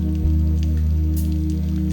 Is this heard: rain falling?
yes